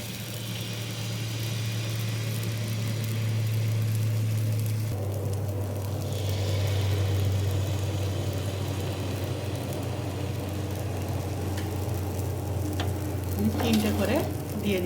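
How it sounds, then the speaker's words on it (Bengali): Two or three pithe made with atta fry in a little oil on a large tawa, a soft, steady sizzle running continuously, with faint clattering near the end. "আমার চাটুটা বড়, আমি তার জন্যে 2-3টে একচোটে দিয়ে দিচ্ছি।"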